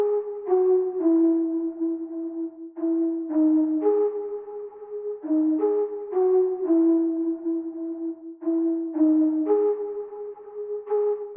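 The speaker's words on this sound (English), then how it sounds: "Then I added a flute layer to kind of outline the chords and just to add another layer to it." A flute layer in a beat traces the chords with short repeating phrases of clean, breathy notes in a steady looping pattern, alone and moderately loud.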